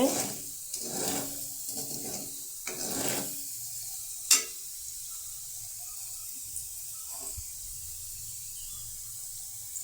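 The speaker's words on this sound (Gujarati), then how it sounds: "આ રીતે હું તેલમાં જ મરચું નાખી દઈશ" Red chili powder hits hot oil for a potato curry, giving a sharp burst of sizzling and stirring scrapes over the first few seconds, then a single loud clink and a quieter, fading hiss.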